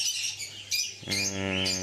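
Pet birds at a bird farm chirp and squawk in the early morning, with a few sharp calls followed by a longer, harmonic squawking call close by.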